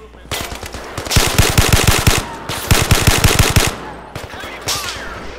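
Rapid bursts of machine gun fire in the VR shooter Zero Caliber, several loud automatic volleys in quick succession with short pauses between them, close and dominant, with a voice faintly underneath.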